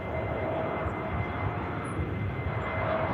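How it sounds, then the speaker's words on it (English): A Ryanair airliner breaking off its approach and going around at an airport, a steady broad engine roar holding evenly throughout at moderate distance with no voices. "the Berlin Ryanair inbound is going around for another go"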